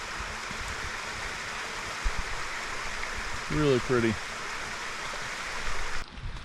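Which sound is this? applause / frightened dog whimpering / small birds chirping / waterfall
waterfall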